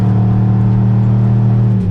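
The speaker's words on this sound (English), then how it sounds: "It sounds so good when I step on the gas" Steady, loud exhaust rumble from a Pontiac Grand Prix GXP accelerating in snow at -13 degrees, with a deep throbbing tone, continuous throughout and close by, like a car under throttle.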